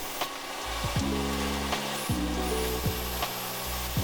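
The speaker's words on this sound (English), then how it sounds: "I always wait till dead last to drill the hole." A power drill whirs in several short bursts while drilling a bolt hole on a Hustler Raptor mower's hydro bracket, spinning up and stopping with brief pauses between, close and fairly loud.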